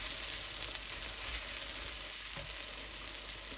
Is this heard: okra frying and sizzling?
yes